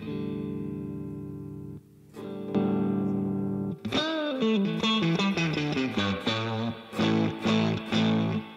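Clean electric guitar played through a 15-watt Fender Blackface amp on its clean channel, with a touch of real spring-tank reverb; a held chord rings out, then a run of close, articulate picked notes and chords, with no talking.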